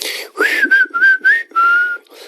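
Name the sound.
whistle solo in a song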